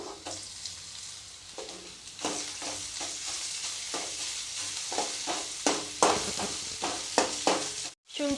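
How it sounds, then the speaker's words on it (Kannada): Ginger garlic paste sizzles in a hot pan for homemade gobi manchurian while a spoon stirs it in repeated scraping strokes over the steady frying hiss, with a brief pause near the end. "ಬೆಳ್ಳುಳ್ಳಿ ಪೇಸ್ಟ್ ಚೆನ್ನಾಗಿ ಫ್ರೈ ಮಾಡ್ಕೋಬೇಕು"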